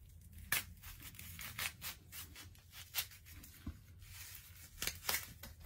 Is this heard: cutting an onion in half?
yes